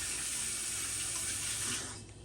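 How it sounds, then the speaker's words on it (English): A running kitchen tap gushes steadily as hands are washed under it, close and continuous, then the flow tapers off near the end; no one talks. "Wash my hands real quick."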